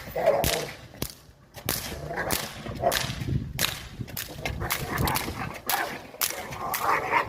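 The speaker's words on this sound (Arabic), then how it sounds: "دي كلبة كين كورسو." A female Cane Corso in her first training session, turning aggressive for the first time, lets out loud, sharp barks and snapping yelps in irregular bursts close by, with brief gaps between outbursts.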